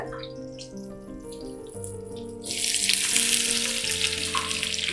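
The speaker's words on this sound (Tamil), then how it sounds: "வெங்காயம் பொன்னிறமாக வதங்கணுங்க. அது வரைக்கும் வதக்கி விடலாம்." Thinly sliced, lengthwise-cut onions, about half a kilo, hit a hot pan for mutton biryani, a loud steady sizzle surging in halfway through after quieter kitchen sounds with a faint background hum.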